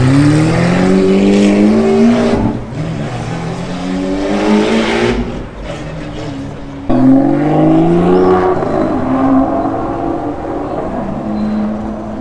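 An Aston Martin V12 Vantage AMR passes on the streets of Monaco during the 2023 Grand Prix weekend, its loud V12 engine revving and shifting through gears, rising and falling as it drives by close.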